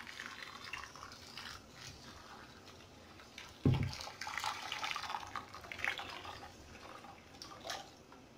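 Liquid poured over steamed Moroccan couscous, a soft close splash starting abruptly mid-clip and continuing as quiet trickling and dripping, with faint background noise before it.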